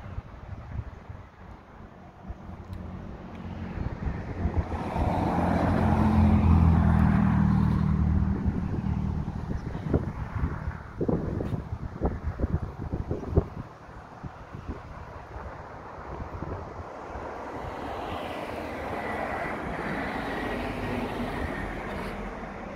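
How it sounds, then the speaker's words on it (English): Steady highway traffic rumbles nearby in a small town in Shasta, California, with a vehicle swelling past in the middle and a low, continuous engine drone throughout; no talking. "there's a major highway goes right through the little town here, so we're gonna get a lot of traffic noise"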